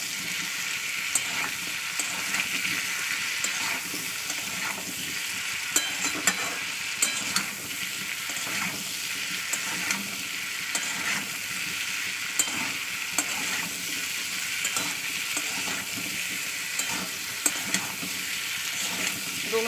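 Vegetables with a spoon each of salt and turmeric frying in a pan, a steady dense sizzle with frequent scraping stir strokes running throughout, close and continuous without any talk.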